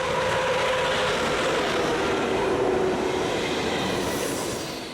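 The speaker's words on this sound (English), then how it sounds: "Heading south is ICE set number 401052" An ICE high-speed train rushes past on the busy Fulda–Bad Hersfeld mainline in Germany, a loud sustained roar of wheels and air that stays full throughout and fades slightly at the end.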